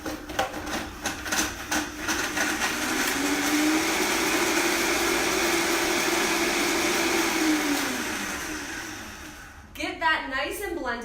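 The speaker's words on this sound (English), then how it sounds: "I'm gonna turn this blender on." A blender motor whirs up, runs at a steady loud drone with a pitch that rises and falls, then cuts off before a voice speaks.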